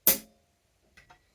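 A drum-kit hi-hat is struck once with its foot pedal held down, giving a short, sharp closed chick that dies away fast, followed by a couple of faint light ticks in near silence.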